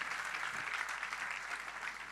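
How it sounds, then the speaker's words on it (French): Applause from an audience at a live French stage show, a steady, even wash of many hands clapping, heard somewhat distant and fairly soft throughout without any speech. "Est-ce qu'on peut l'applaudir, s'il vous plaît?"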